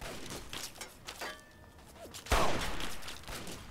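Turret gunfire in the video game Fallout 3, a series of muffled bursts early on, then a loud sharp impact with crackling, debris-like rattle that carries on through the rest of the clip.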